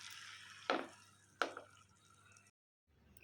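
Marinated chicken hits melted butter in a hot pan for iffa chicken, giving two sharp wet sizzling splats about a second apart over a low steady kitchen hum, then a short silence.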